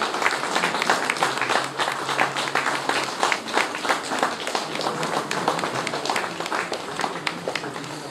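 An audience claps at a poetry book launch, sustained applause with many hands close by across the whole stretch and no speech over it.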